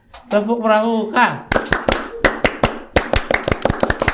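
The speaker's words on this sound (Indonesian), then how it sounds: "Ayo, tepuk pramuka." A group performs the Indonesian scout-style clap, tepuk pramuka: a chanted vocal line opens, then sharp, loud claps land in a quick patterned rhythm of singles and rapid clusters, with voices chanting between them.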